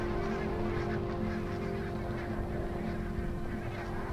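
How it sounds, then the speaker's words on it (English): A flock of migrating barnacle geese at a Scottish river in winter honks in a dense, overlapping chorus, steady and moderately distant, with no talking. "Every winter, barnacled geese arrive right on cue at the same Scottish river."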